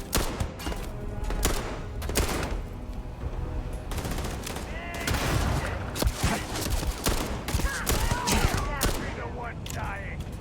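Rapid video game gunfire, dense bursts of automatic shots and sharp single cracks with thuds, loud and continuous across the clip, mixed with game sounds and occasional voices.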